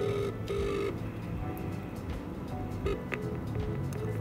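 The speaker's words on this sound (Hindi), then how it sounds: "अब यहाँ से मुझे कॉल कर देनी है बस।" An outgoing call ringing back through a phone to a boAt product warranty support number, with repeated ring tones pulsing over a steady background hiss.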